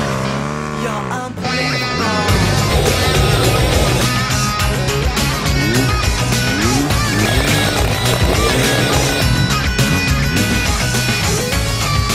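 A BMW R 1200 GS motorcycle engine revs and pulls through changing speeds, its loud, rising and falling drone starting after a brief lull and running continuously.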